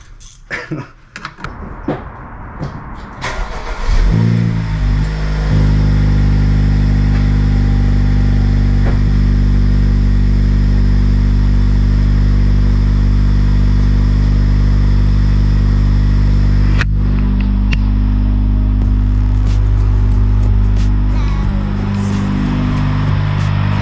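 A Honda Civic Type R FL5 with a newly installed downpipe starts up and settles into a loud, steady idle with a deep drone, a few rising revs near the end, close by.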